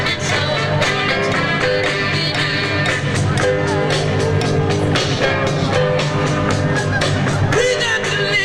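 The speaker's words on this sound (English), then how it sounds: "Crowd at One Nation March." A dense crowd at the One Nation March rally in Washington DC, 2010, makes a steady, loud outdoor hubbub of overlapping voices and occasional shouts and whoops, continuous throughout with no single clear speaker.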